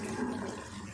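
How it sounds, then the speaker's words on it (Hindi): Chickpea cooking water splashes briefly and softly into a pot of chicken chana pulao, a short, faint pour of liquid. "अब डाल देंगे इसमें पानी। जो चने वाला पानी है वो भी मैं डाल दूँगी।"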